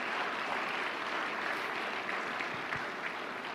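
An audience applauds in a dense, steady wash of clapping that holds at an even level for a few seconds, moderately loud with no clear voices.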